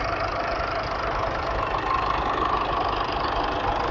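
A 1950s Fordson Super Major diesel tractor engine idles steadily and loudly at a steam rally, a continuous low chugging rumble with no talk.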